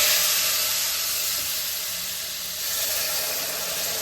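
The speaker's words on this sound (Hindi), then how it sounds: "अच्छा, ध्यान से हम इसके अंदर शीरे को डालेंगे" Hot sugar syrup poured into roasted semolina for suji halwa sizzles and hisses loudly, a continuous bright steamy spray sound that eases slightly midway and then holds steady.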